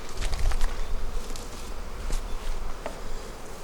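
Honeybees buzz around an open hive in a bee yard, an aggressive line of bees, their drone steady and close with individual bees zipping past the listener now and then.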